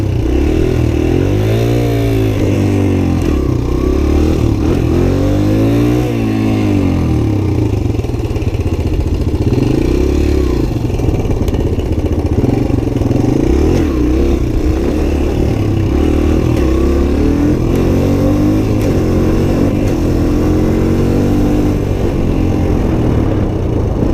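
A Suzuki DR-Z 125 pit bike engine revs steadily in first gear while spinning around, its pitch rising and falling in repeated surges, loud and close throughout.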